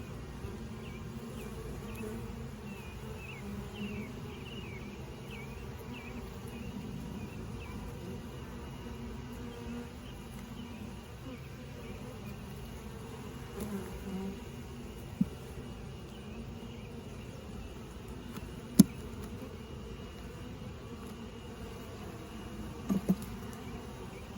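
A soft, steady hum of many honeybees buzzing around a hive, low and continuous, with a few faint clicks near the end.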